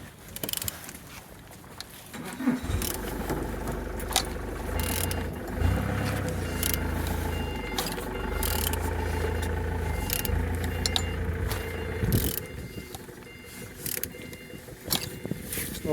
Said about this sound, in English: Turning the engine 9J44.